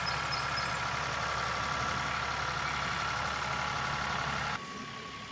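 A Ford 4600 tractor engine idles at a constant low rumble throughout, then the sound level drops slightly near the end as the engine settles.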